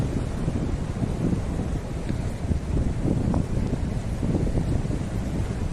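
Strong wind blows along a seashore where crab traps are set, with rain approaching; a steady, rough buffeting roar presses against the microphone throughout, with no voices.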